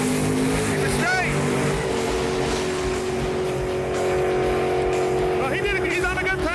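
A 1968 Chevy Camaro roars down a drag strip with a loud, continuous engine drone and brief tire squeals, while voices talk over it.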